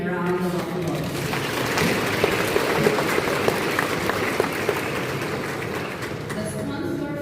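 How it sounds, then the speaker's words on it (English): A church congregation at an early-morning Simbang Gabi Mass applauds a priest with a full, steady round of clapping, and voices are heard at the start and end. "Let's give him a round of applause."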